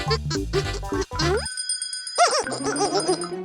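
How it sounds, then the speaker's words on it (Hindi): Bright cartoon bell ringing from the Pocoyo series, a chiming, jingling tone that sweeps and warbles for a couple of seconds after a brief burst of lively cartoon sound. "फिर से घंटी की आवाज।"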